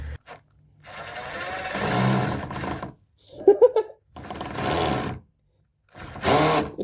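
Screw driven hard into a damaged metal part on a Jackson bass guitar, heard as short bursts of power-driver whir separated by pauses, with a brief metallic clatter in the middle.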